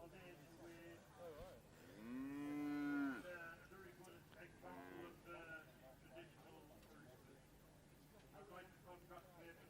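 A Hereford heifer in the show ring at a cattle show gives one long, loud moo early on, while an announcer talks across the arena throughout.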